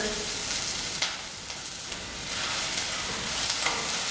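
Onions sizzling in a pan as they turn golden, a steady soft frying hiss with a few faint clicks of stirring, heard alone and fairly quietly.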